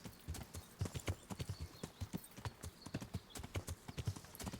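Horse hooves clip-clop in a video game, a brisk, regular trot of sharp knocking steps close by, with faint background tones and no talking.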